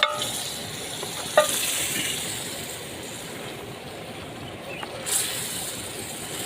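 Chicken dropped into a tomato gravy in a karahi, cooking into a chicken butter karahi: a steady close sizzle runs throughout, with a spoon clank or two as it is stirred.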